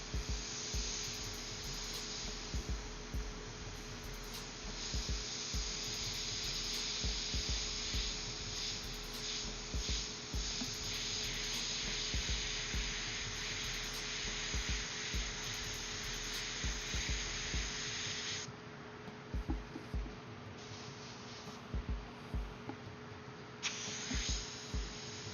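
An airbrush sprays paint onto a skull design, a continuous soft hiss over a low electrical hum, steady for most of the stretch before easing into quieter intermittent bursts, with no talking.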